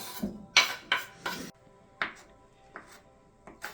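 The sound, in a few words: knife chopping salad ingredients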